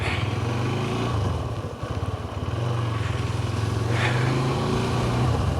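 A borrowed motorcycle rides along a road near Hyderabad, its engine droning steadily and loudly throughout with a brief dip in the middle and no talk.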